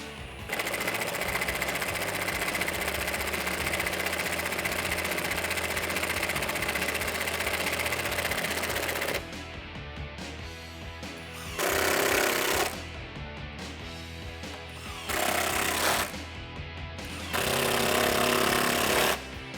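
A cordless power tool fitted with a T30 Torx bit tightens intake bolts on a 5.0L Ford F150 during a Roush intake install, buzzing in a long continuous run, then in several short bursts.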